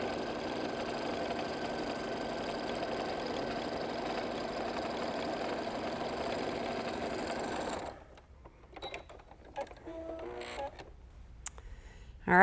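A sewing machine runs steadily with a fast, even mechanical whir while stitching a quarter-inch quilt seam, then stops abruptly, leaving faint clicks and handling noises.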